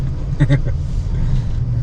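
A Honda Amaze 2026 car driving on a single-lane road in Rajasthan: a steady, loud low cabin rumble and road drone, with someone briefly speaking over it.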